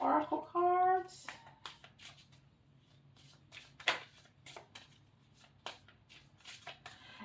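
Sacred Rebels oracle cards are riffle-shuffled in a short, crisp burst, followed by scattered soft card slaps and handling taps in a quiet room.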